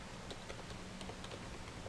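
Quiet typing on a computer keyboard, a steady patter of light key clicks at an even pace, faint and close, with no talking.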